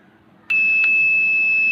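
An electronic buzzer switches on abruptly when a relay is activated by a button press, holding a loud, steady high-pitched tone after a brief click.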